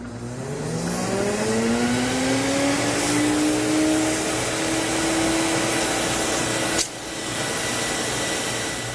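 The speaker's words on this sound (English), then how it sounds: "turn the machine on, and this will dry the hose for you" A Sirena water-filter vacuum cleaner running steadily, its motor whine rising in pitch as it spins up, loud and continuous with a brief dip near the end.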